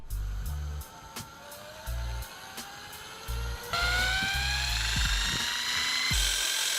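An electric motor spins a horizontal shaft up toward a few thousand RPM, its whine rising steadily in pitch and growing louder partway through, with intermittent low thumps and knocks underneath.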